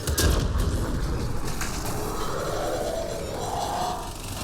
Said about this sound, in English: Get that biotic explosion.